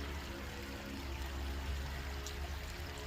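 Cold water pours in a steady, continuous stream, faint and unbroken for a few seconds with no voices.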